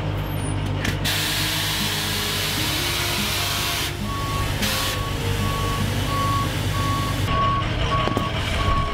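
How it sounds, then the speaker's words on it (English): Electric double-decker bus lowering its body with a steady pneumatic hiss and air-brake release, joined by a repeating reversing-style warning beep, heard close and loud with no talk. "So by just pressing that button, I can lower the whole bus down."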